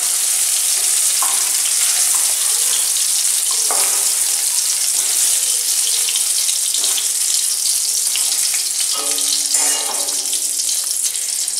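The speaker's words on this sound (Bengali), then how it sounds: "চিংড়ি মাছগুলো ভাজা হয়ে গেছে" Shrimp frying in hot oil: a loud, dense, continuous sizzle and crackle close by, with occasional faint knocks from the pan or utensil underneath.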